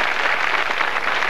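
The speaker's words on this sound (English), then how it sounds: "Give Dana a round of applause before we go any further." Studio audience applause on a 1997 RTÉ Late Late Show broadcast, a brief, loud, continuous burst of clapping with no voices over it.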